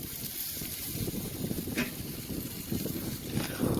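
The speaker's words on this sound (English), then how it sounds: "It's way too windy." Blustery wind rumbles and buffets the microphone in uneven gusts outdoors beside a Kamado Joe grill, with a low roar that stays constant throughout.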